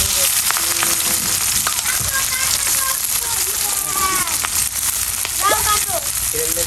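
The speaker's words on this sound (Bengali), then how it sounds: "আমি হচ্ছে অলরেডি তেল দিয়ে দিচ্ছি, এর মধ্যে আমি দেবো জিরা ফোড়ন" Cumin seeds, chopped onion, garlic and chili frying in hot oil, a dense continuous sizzle with crackling pops and a few faint clinks, steady and close, with a voice speaking over it.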